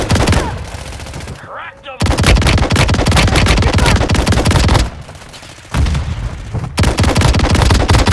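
Intense close-range automatic gunfire in the mobile shooter Warzone Mobile on Android, loud continuous bursts broken by two short pauses, with faint speech under the shooting.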